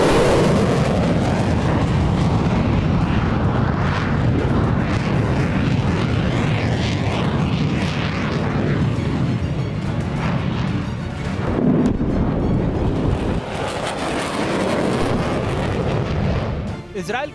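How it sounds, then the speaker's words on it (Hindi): Israeli F-16 and F-35 fighter jets taking off: a continuous loud, broadband jet roar lasting about seventeen seconds, dense and powerful throughout. "इजरायली एयरफोर्स के F-16 और F-35 फाइटर जेट्स स्ट्राइक के लिए तैयार हुए और फिर एक एक कर ये फाइटर जेट्स"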